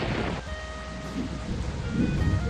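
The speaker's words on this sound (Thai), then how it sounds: "เฮ้ยฝนตกด้วยว่ะ" Steady rain in Bus Simulator Indonesia hisses continuously over a low rumble, with a faint tonal engine hum running underneath and no talk.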